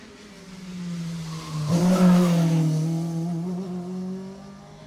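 A rally car in the Jersey Rally sweeps past and through a corner with its back end stepping out, engine note rising to a loud peak mid-pass then fading, with a brief tyre scrub as it turns.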